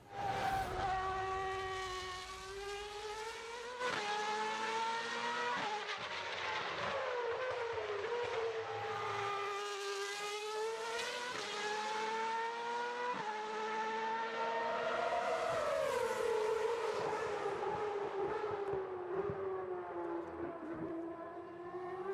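A high-revving race car engine in a driving simulator game screams continuously, pitch climbing and dropping sharply through gear changes, loud and without any talk.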